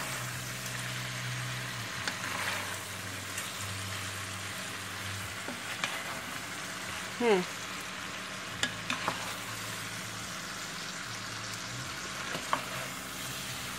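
Beef browning in a pan on the stove for beef bourguignon gives a steady, quiet sizzle that runs throughout, with a few soft clinks and stirring sounds and no talking.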